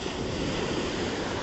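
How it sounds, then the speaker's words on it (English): Ocean waves on Fort Cochin beach along the Arabian Sea give a brief, steady wash of surf, a broad continuous roar mixed with some wind noise. "I was thinking about the sound of the waves"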